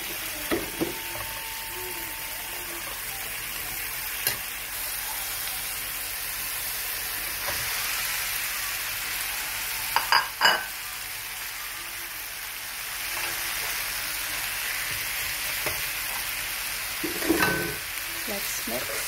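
Rice being stir-fried in a pan for kimchi fried rice, a steady broad sizzle running throughout with a few sharper scrapes and clatters of the utensil near the middle and end.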